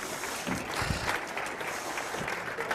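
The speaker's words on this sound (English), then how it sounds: "The audience will give you a big round of applause, Glenn." Audience applause at a meeting event, a steady wash of clapping from a crowd that holds evenly for a few seconds with a few louder spots, no talk over it.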